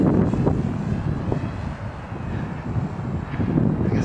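An FMS Kemy trainer RC airplane flies in very windy conditions, its motor a steady whine at middle distance, mostly buried under heavy wind buffeting and rumbling gusts against the microphone.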